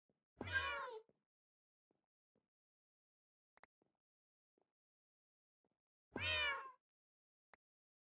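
A cat meows twice, each a drawn-out, fairly loud call, separated by several seconds of near silence with faint small clicks.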